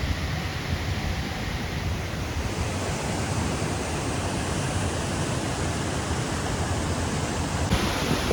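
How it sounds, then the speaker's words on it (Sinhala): Lakshapana waterfall in Sri Lanka, running full after recent rains, sends out a steady, unbroken roar of rushing water that fills the whole stretch with constant broadband wash. "අපි ආවා ලක්ෂමාන දියැල"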